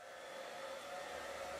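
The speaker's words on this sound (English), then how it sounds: "Get impatient. Use hairdryer." A hair dryer blows on acrylic paint in a steady, unbroken whir, quiet and even from start to finish with no voices over it.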